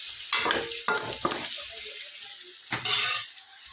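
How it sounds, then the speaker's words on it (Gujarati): Cleaned crab pieces sautéing with golden onions in a hot pan give short bursts of close sizzling and spattering, separated by quieter gaps. "તો કુળચલને આપણે સોતરાવા દઈશું થોડીક વાર"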